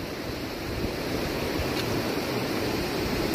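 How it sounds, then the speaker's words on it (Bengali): Water rushes and surges in among the rocks on a rocky river island, a steady broadband roar close by, continuous with no talk. "দেখো কিভাবে এসছে জলটা"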